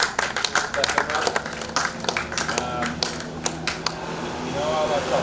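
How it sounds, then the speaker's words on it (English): A small gathering claps at a tennis prize giving in scattered, uneven bursts that thin out toward the end, with people talking over and after the clapping. "give yourselves, especially young ones, a round of applause for stepping up"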